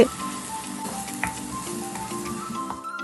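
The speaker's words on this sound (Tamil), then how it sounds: "இந்த அரைச்சி வச்ச வெங்காயத்தையும் சேர்த்துக்கலாங்க. சேர்த்து நல்லா வதக்கிட்டு" Ground onion paste sautéing in hot oil inside a clay pot for a traditional fish curry, giving a steady, close sizzle and frying crackle with light stirring throughout and no voices.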